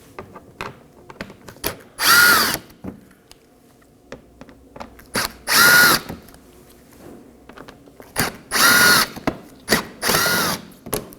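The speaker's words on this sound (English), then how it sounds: "on the corners we're going to locate 4 Phillips head screws. Go ahead and remove those." Cordless power drill backing out Phillips head screws beneath the front bumper corners of a 2015-2023 Nissan Maxima, four loud whirring bursts of a second or so each, separated by clicks and handling noises, with no talking.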